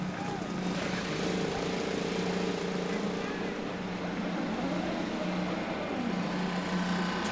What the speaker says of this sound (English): 27 IndyCars fired up here at Portland International Raceway, ready to roll for 110 laps.